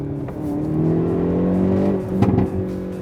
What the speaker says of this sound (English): when you floor the accelerator, the briefest of pauses precedes a wild, swelling ruckus of thrust